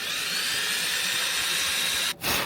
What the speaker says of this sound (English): I'm going to embrace my inner American and just start drilling.